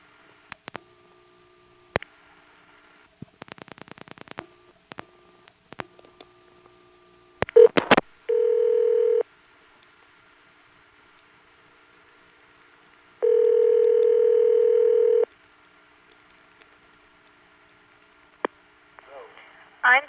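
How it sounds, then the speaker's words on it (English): A March 1978 Florida telephone line on an N3 carrier trunk with Siemens motor switches carries a steady noisy hiss, short clicks and tone bursts, and sustained dial-tone stretches, punctuated by switching pulses, with quiet gaps between. "There's a nice, rich, noisy N3 family carrier trunk there."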